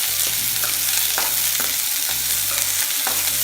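Onions sautéing in a pan for an onion pachadi, a loud, dense sizzle with repeated rhythmic scrapes of a spatula stirring them.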